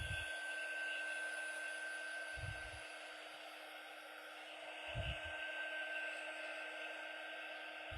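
A hair dryer blows steadily to dry paint on a Halloween tree craft, a continuous close whooshing hum that holds for the whole stretch with faint low thumps.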